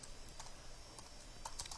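Computer keyboard typing, with a few quiet, sparse keystrokes and a small cluster of clicks near the end, faint and close against a low background hiss.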